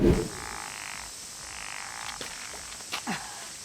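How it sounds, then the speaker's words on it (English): A small frog caught at a pond in Japan gives a few soft, close croaks and clicks spread over a few seconds against a faint steady hiss, with no talking. "this is actually the very first frog that I have successfully captured in Japan"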